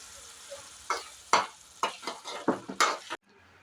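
Tomato thokku with chili powder being stirred in a pan, a series of distinct scraping strokes of the spoon against the pan, fairly close, with a soft sizzle underneath and a brief quiet pause near the end.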